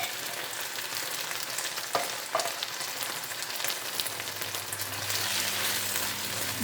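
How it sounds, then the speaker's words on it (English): Baked beans sizzle and crackle loudly in a hot frying pan, a dense steady frying hiss with a couple of sharp clinks from a utensil. "add half a can of baked beans to this. Very quickly, because it does start to sizzle."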